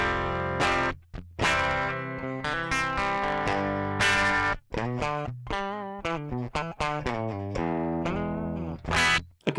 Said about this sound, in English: this is the sound of the amp if it didn't have a speaker.